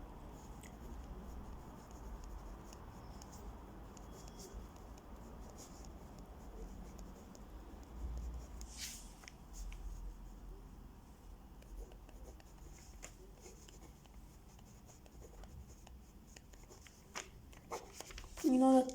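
Pen or marker scratching out a math formula for a partial differential equation, faint and steady with a few brief louder strokes near the end.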